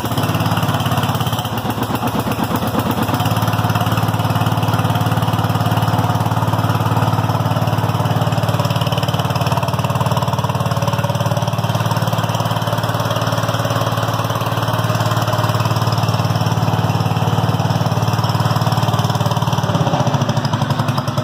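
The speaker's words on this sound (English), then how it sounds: "Engine runs fantastic. It really does. It runs great. It starts great." A Cub Cadet LT1018 lawn tractor engine runs steadily at idle, a loud continuous drone with a slight shift in tone near the start, holding even for the whole stretch with no talk over it.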